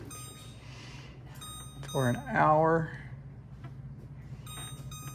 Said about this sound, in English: we're gonna set our cook timer